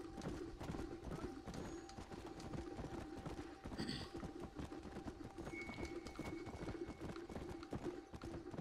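Horse hooves clop in a steady, quick rhythm in the video game Red Dead Redemption: Undead Nightmare, fairly faint under a busy background, with a brief whinny partway through.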